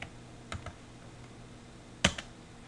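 Computer keyboard key presses in a quiet room, a few isolated soft clicks, one louder tap near the end, faint and sparse with no voice.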